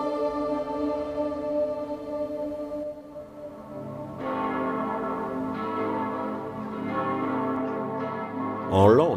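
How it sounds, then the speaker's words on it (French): Church bells of Santiago pealing at full swing, long sustained ringing tones layered and overlapping, a fresh strike joining midway, loud and resonant throughout. "les cloches de Santiago se mettaient à sonner à toute volée pour avertir d'une attaque des troupes musulmanes"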